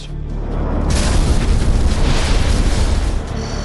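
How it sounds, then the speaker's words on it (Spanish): A documentary reenactment of an in-flight engine explosion on a DC-10 airliner: one loud, deep boom swells into a sustained roaring blast that fills most of the clip, then cuts off abruptly. "La explosión ocurre a las 3:16 de la tarde, 1 hora y 7 minutos después del despegue."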